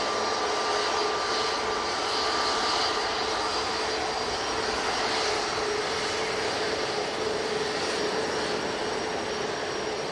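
A jet airliner takes off from Manchester for Paris, a constant, fairly loud broadband engine roar with a thin steady whine running through it, heard alone with no talking.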